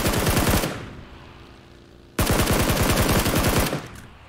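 Automatic gunfire in the video game PUBG on Xbox One, two loud, rapid bursts of close shots, the first ending quickly and the second running longer after a short pause.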